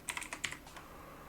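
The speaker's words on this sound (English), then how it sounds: "for the placeholder, you want to type here a password" Someone types a password on a computer keyboard, about six quick faint key clicks in a short run, then quiet.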